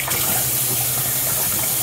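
Water runs steadily from a tap during washing, a continuous close hiss and splash with no talking.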